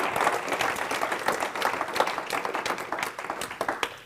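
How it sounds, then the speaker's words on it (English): An audience gives a big round of applause at a conference panel session, steady, dense clapping throughout with a few louder individual claps standing out near the mic. "Big round of applause for Ara."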